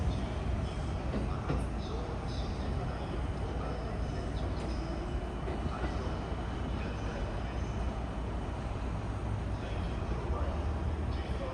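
An E235 series train runs out of service as it pulls away from platform 4 at Osaki station, a continuous broad rumble and roar that holds steady throughout without any clear peaks.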